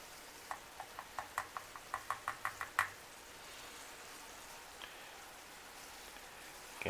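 A spoon clicks and taps rhythmically against a bowl, about a dozen quick knocks, while cinnamon is stirred into apple pie filling, then it falls quiet apart from soft background hiss.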